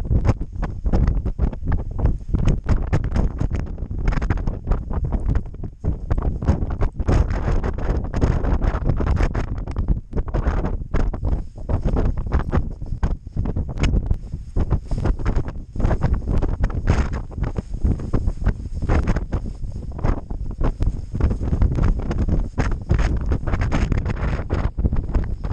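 Strong wind in a Siberian storm battering a microphone beside a storm shelter outdoors: loud, gusty roaring and buffeting in constant irregular bursts throughout.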